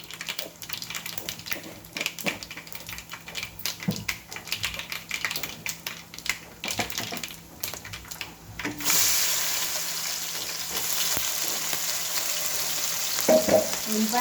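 Onion and green chili hit the oil in a pan for a bottle gourd curry with garlic chili powder, and a loud, steady sizzle takes over after a stretch of scattered stirring and tapping.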